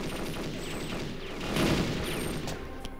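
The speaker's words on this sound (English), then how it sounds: "Who is shooting at me?" Gunfire from the N64 game Perfect Dark, a dense continuous stream of rapid shots and clatter, loudest near the middle, with no talking.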